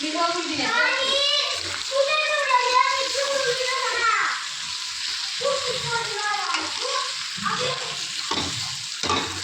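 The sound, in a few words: chicken pieces frying in oil with cumin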